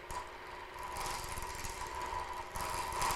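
A wood lathe turns a workpiece while a chisel, held steady by hand and inched slowly forward, cuts lightly across it, producing a continuous whirring hum with a sustained tonal whine and scraping texture, steady and fairly close throughout.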